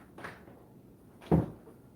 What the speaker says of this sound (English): let me go ahead and close up the door over here